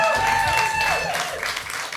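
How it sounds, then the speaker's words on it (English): Summit audience applauds as a guest joins the stage, a loud continuous wash of clapping and cheering that fills the whole stretch at even strength. "Round of applause for Guneet."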